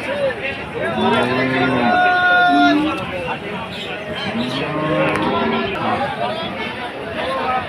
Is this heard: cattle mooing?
yes